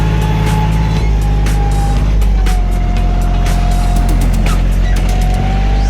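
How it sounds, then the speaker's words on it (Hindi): A JCB backhoe mounted on a tractor digs a pipeline trench about 3.5 to 4 feet deep. Its heavy engine drones loudly and steadily, with sharp clanks and scrapes from the bucket throughout. "ट्रैक्टर में जेसीबी लगवाई है"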